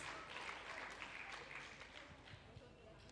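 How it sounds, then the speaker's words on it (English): Audience at an international academic conference in Cirebon, Indonesia applauding its three keynote speakers, a faint, steady wash of clapping from a hall, heard at a distance and without distinct individual claps. "please give a very big applause to our 3 keynote speakers"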